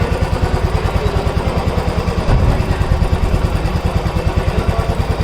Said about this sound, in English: You can hear the engine refinement.